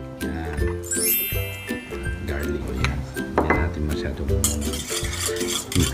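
Calamansi juice, soy sauce, salt, pepper and garlic marinade stirred in a bowl: continuous scraping and clinking of a utensil against the bowl, close up, under background music and occasional talking.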